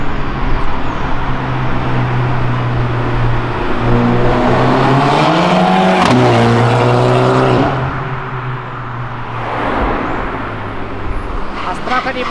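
A Dodge Ram pickup fitted with a Viper engine rumbles and revs loudly nearby, its deep idle rising to a roar and settling again, with a crackle around the gear change and people talking over it.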